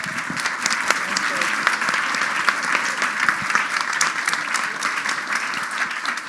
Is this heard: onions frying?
no